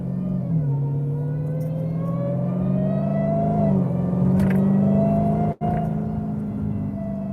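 A Dodge Challenger SRT Demon 170 engine hums steadily from inside the car, its pitch climbing gradually with a brief dip and a short break near the end, loud and without talk.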